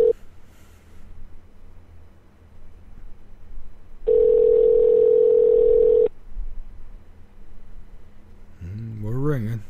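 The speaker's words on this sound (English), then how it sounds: "We're ringing." A single long telephone ring tone sounds steadily for about two seconds on a radio show call-in line, preceded by quiet background hiss and followed by a brief voice.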